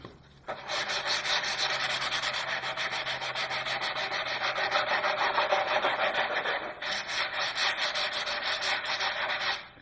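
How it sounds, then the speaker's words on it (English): Steady, close scratchy rasping of 150 grit sandpaper roughing up a tube ahead of an epoxy fillet, with quick back-and-forth strokes running almost without a break for the whole stretch and no voices. "we want to rough that up a bit with 150 grit sandpaper"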